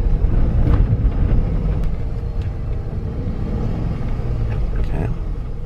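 A manual-transmission car's engine held at a steady loud rumble as the driver gives it gas in second gear, a continuous close drone without clear rev peaks.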